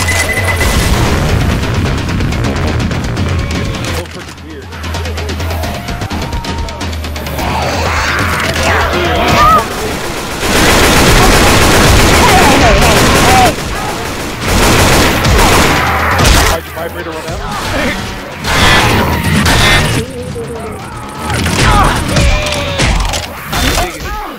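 Explosions and rapid gunfire from a Left 4 Dead 2 grenade fight, loud and dense throughout, with a heavier blast burst around the middle and voices shouting over the chaos.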